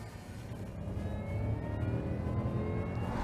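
Supercharged Jaguar saloon engine under acceleration, a continuous whining hum with rising engine drone, steady and fairly loud throughout.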